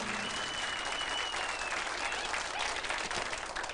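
Studio audience at a 1996 television talk show applauds in a dense, continuous wash of clapping that holds steady at moderate level throughout, with no voices standing out.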